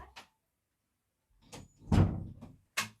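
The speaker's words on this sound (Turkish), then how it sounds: "Kapıyı kapa." A room door being shut: a soft handle rattle, then a fuller thud of the door swinging closed and a sharp latch click, close and alone against near silence.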